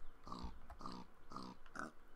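A pig in TerraFirmaCraft grunting four times in a steady rhythm, each a short, clear, nasal oink, close and fairly quiet.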